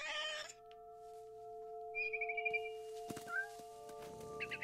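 A cat meows in the video game What Remains of Edith Finch, a short clear meow at the start followed by faint game ambience, soft chirps and a couple of small bird-like calls, all quiet.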